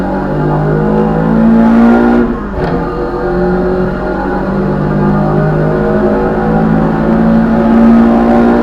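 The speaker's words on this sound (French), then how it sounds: "là ici on va se mettre un petit coup d'accélérateur pour voir ce que ça donne en accélération" A Renault Clio Williams accelerates hard, its engine roaring loud and close with a steady rising drone that dips briefly around a gear change before climbing again.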